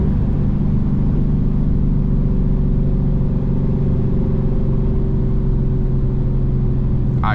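A Dodge Scat Pack 392 V8 roars under hard acceleration on an early-morning drive, a loud, close, sustained engine rumble from inside the car with no voices.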